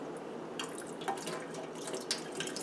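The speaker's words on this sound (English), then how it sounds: "I want to have the water kind of flush through." Water runs and flushes through an N95 respirator mask held under a flow, a soft continuous splashing with small drips and gurgles, fairly quiet and steady throughout.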